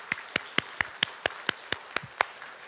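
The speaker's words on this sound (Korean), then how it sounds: "우리 박수로 한번 격려합시다" Clapping at a Korean church's Thanksgiving Sunday service honoring the kitchen and flower-arranging volunteers: about ten crisp, evenly spaced claps in a steady rhythm, close and distinct against a quiet room.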